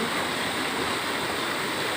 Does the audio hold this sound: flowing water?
yes